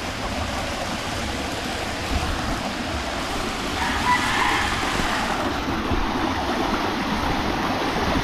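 A river stream flowing steadily, a constant close rush of water that fills the whole stretch, with a faint brief tonal sound partway through and no talking.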